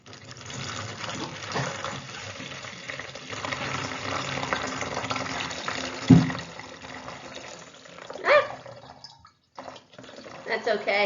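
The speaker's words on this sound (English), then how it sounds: "I'll pour water from the bottle into the container to confirm our predictions." Water pours from a bottle into a container in a soft, trickling flow beneath talking, with a few splashy bursts and drips toward the end.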